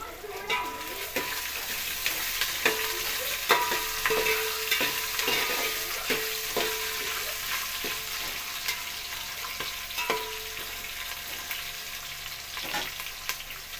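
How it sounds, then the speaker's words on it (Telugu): Potato, carrot and green chilli pieces frying in oil as a spoon stirs them in a pan, a constant soft sizzle with repeated scraping and clinking strokes, close by and without talk. "కొంచెం ఫ్రై అయ్యాక అందులో మనం కట్ చేసి పెట్టుకున్న ఆలుగడ్డ ముక్కలు, క్యారెట్ ముక్కలు, పచ్చిమిర్చి వేసుకొని కలుపుకోవాలి."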